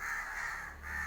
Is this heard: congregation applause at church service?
no